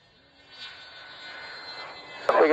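Aircraft taking off for a display at RAF Waddington Airshow 2013, a faint engine whine building gradually in the distance, then a sudden louder burst of noise near the end.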